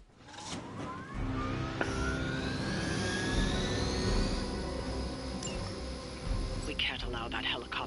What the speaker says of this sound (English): We can't allow that helicopter to escape.